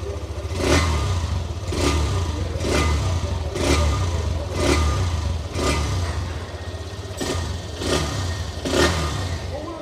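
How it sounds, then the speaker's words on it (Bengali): A 2025 Hero Xtreme 125R single-seat motorcycle sits at idle while its engine is revved again and again. Roughly nine sharp throttle blips come about once a second over a steady low exhaust thrum, close and fairly loud. "চলুন এর ইঞ্জিন এবং এক্সস্ট সাউন্ডকে একবার শোনা যাক"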